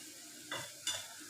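Garlic frying in a pan with red chili, turmeric, salt, cardamom, cumin and dried coriander gives a soft sizzle, broken by two or three short scraping stirs, quiet and close.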